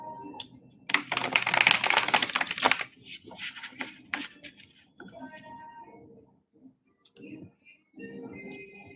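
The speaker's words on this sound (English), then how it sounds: "as I'm shuffling the cards" Tarot cards are shuffled in quick riffling bursts, loudest for a couple of seconds early on, then fading into lighter intermittent rustles and taps.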